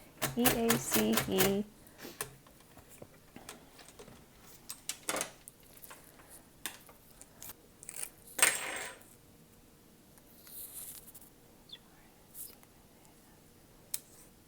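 Braille embossing head punching dots into a Christmas card, a quick burst of sharp mechanical clicks and clacks followed by sparse, faint taps and knocks with quiet pauses between.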